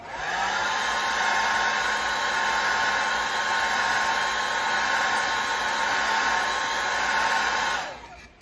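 Heat tool blowing hot air to heat-set paint on a craft piece, a steady, loud fan whir and rushing air that holds evenly for about eight seconds, then cuts off at the end.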